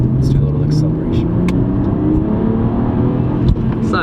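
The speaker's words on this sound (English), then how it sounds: "Let's do a little acceleration." A BMW car accelerating hard, its engine roaring loudly and close with a steadily rising pitch throughout, while voices faintly mix in.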